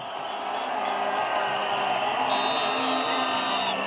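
An audience at a political rally in Chad applauds and cheers, sustained clapping and crowd noise building slightly after the start and staying loud, with a whistle-like tone joining midway.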